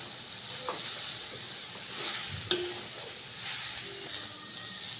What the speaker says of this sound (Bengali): এবার এটাকে ভালো করে নাড়াচাড়া করে নিয়ে নামিয়ে নেব।